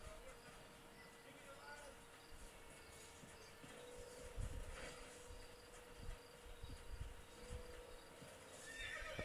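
A horse neighs and its hooves clip-clop in the Red Dead Redemption video game, set over a steady bed of chirping insects, with a louder whinny near the middle and a few hoof hits.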